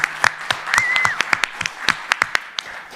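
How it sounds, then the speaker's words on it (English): A small conference audience at a talk on preventing balloon litter claps for the presenters, with sparse, scattered handclaps popping out one by one at an uneven rhythm over a quiet room. "So a final round of applause for these lovely ladies that gave us so much information."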